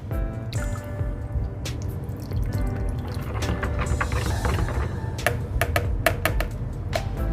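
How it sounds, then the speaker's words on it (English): Lye water solution being poured into soap batter during cold process soap making, a close, steady wet pouring with repeated small drips and squishy splashes throughout. "Now we will add the water, the lye water solution."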